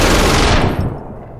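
A rapid burst of automatic gunfire in the video game APB Reloaded, loud and dense, cutting off and fading into a brief echoing tail.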